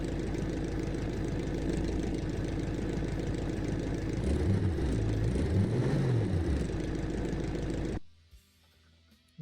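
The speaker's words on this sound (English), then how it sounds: "Yes, Mr. Narki, this is your car. This is your engine. Yeah, the idle is awesome." A viewer-built restomod car with rear-wheel drive and a 6-speed manual gearbox idles close up, a loud, steady rumbling engine note with a brief rev swell, then cuts off abruptly near the end.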